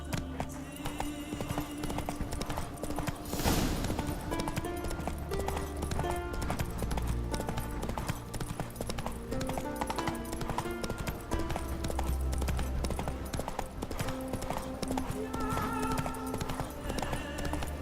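Horse Roach trotting in The Witcher 3 game: steady clip-clop hoofbeats run throughout under dense game music, with a brief snort or whinny and faint voice now and then.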